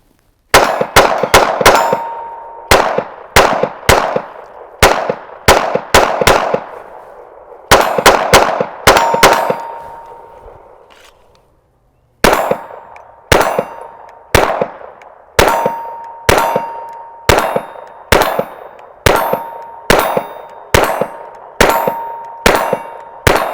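A Taurus TX22 .22LR pistol fires a long run of sharp, evenly spaced shots, each followed by a brief metallic ring. Loud and close, the shots pause briefly midway before the steady string resumes.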